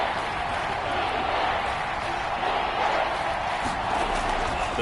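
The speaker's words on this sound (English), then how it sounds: "this is where the Arrowhead crowd can make it very tough" Steady roar of a large crowd at a football game in Arrowhead Stadium, a loud, continuous wash of noise on a third-and-goal play, with no distinct voices.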